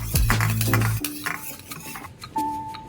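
Turmeric worked into cooked lentils in a bowl with a spoon: quick clinks and scrapes of metal against the bowl, a brief ringing tap near the end, close and with no voices.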